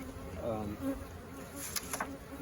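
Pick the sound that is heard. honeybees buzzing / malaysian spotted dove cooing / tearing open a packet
honeybees buzzing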